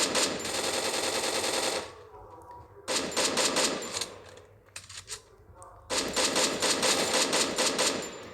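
Rapid automatic gunfire from the Free Fire video game rattles in long, loud bursts with a short lull in the middle, then resumes strongly.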